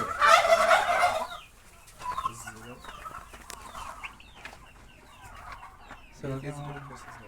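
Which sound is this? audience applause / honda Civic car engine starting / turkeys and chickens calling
turkeys and chickens calling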